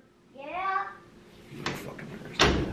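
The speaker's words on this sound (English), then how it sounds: "Jillian, can you shut the door?" An indoor door is pushed shut with a soft knock and then a firmer thud, following a brief high voice at the start.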